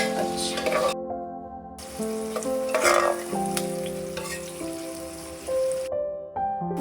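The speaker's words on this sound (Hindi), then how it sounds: "तेल डाल के जो हमारे पास कटी हुई प्याज रखी है, कम 2 बड़ी प्याज वो डालेंगे, लाल करेंगे" Two chopped onions frying in hot oil in a pan, a steady close sizzle with light stirring, under sustained musical tones and a few gaps.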